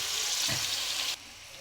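Chicken and tomato curry seasoned with turmeric and salt sizzles in a pan while being stirred, a steady bright frying hiss with one soft scrape midway before the sizzle drops abruptly to a quieter simmer.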